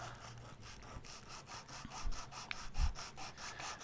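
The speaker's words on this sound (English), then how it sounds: "Good thing that styrene sands super easily." Styrene plastic being sanded by hand for a scratch-built plastic model kit, a close, steady rhythmic rasping of back-and-forth strokes with a couple of small knocks.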